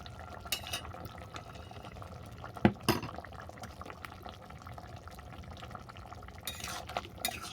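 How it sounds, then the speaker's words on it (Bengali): Fried prawns stirred with mustard paste in a pan: a soft bubbling simmer broken by a few clanks of a utensil against the pan, the loudest near the middle, with no speech. "সরষে বাটা চিংড়ি মাছটা ভালো করে মিশিয়ে নিলাম"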